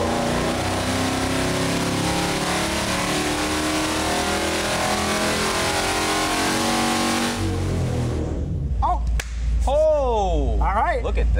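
Rebuilt AMC 304 V8 with added port fuel injection running hard on an engine dyno, a loud sustained roar through most of the pull before the revs drop and sweep up and down in short blips.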